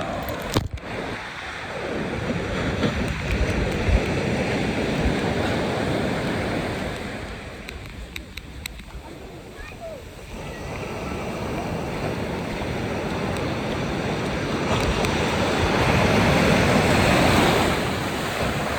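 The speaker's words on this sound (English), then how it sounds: "There's a wave coming." Ocean surf washing in and breaking steadily at City Beach, a continuous broadband roar that swells louder toward the end, with wind buffeting the microphone.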